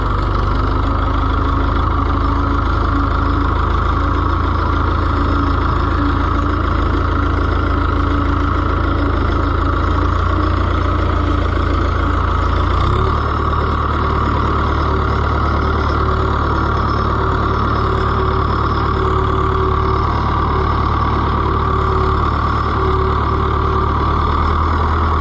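An Oliver 1365 tractor engine runs loud and close as it drives through mud, a steady low mechanical drone with a knocking rumble that deepens and shifts in pitch partway through, with no talking.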